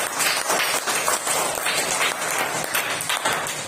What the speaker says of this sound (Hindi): आप सभी बच्चे इनके लिए ताली बजाइए।